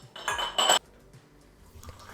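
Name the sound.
glass jars and lids placed into a heat-proof bowl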